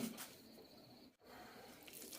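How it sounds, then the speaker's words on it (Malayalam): Flattened rice (aval) being washed in water in a home kitchen, with a steady soft splashing and trickling wash throughout and a brief dip in the middle. "അതിനായി ഒന്നര കപ്പ് വെള്ളവിലെടുത്തിട്ടുണ്ട് ഇതൊന്ന് കഴുകിയെടുക്കാം"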